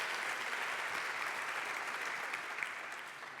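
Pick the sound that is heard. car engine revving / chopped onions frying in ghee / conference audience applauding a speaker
conference audience applauding a speaker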